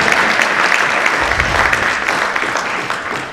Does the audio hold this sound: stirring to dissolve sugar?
no